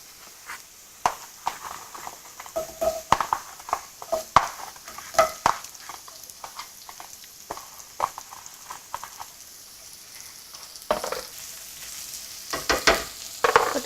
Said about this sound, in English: Fry till you can smell the garlic